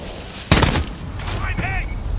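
A grenade going off in Call of Duty: Modern Warfare, a sharp loud blast followed by a short rumbling tail, with game voices and radio chatter around it.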